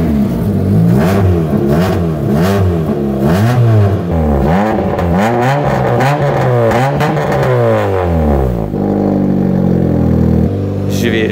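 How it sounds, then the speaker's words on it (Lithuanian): Toyota Starlet car engine in a garage, with a suspected throttle fault, revs up and down repeatedly in loud rising and falling sweeps, rough and clattery, before easing to a lower steady run near the end. "Ogi dar vienas Starleto variklis."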